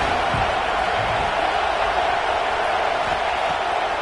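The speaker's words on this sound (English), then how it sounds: "this crowd really affecting the football game" Home crowd cheering in a college football video game, a dense steady roar of stadium noise holding at an even level for a few seconds.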